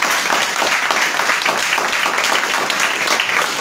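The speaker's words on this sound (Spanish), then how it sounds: "Un aplauso." Listeners at a literature talk break into applause, a dense, even wash of many hands clapping at close range for several seconds, with no voices.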